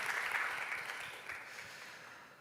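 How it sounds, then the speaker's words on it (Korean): Warm applause from a church congregation for the worship band Moablue after their praise set at a Sunday youth service, a dense sustained clatter of many hands that slowly tapers off. "우리 모아블루에게 다시 한번 따뜻한 축복의 박수"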